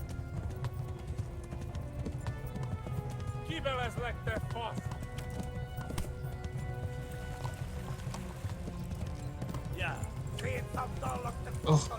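Horses gallop in pursuit in the medieval game Kingdom Come: Deliverance: steady rapid hoofbeats under continuous clip-clop, with a neigh or whinny rising twice and voices talking over it.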